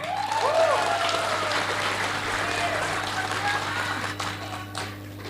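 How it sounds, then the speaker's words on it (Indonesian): Steady applause from a crowd fills the room, with cheering or whistles rising early on and the clapping slowly thinning toward the end. "Tepuk tangan untuk mereka bertiga."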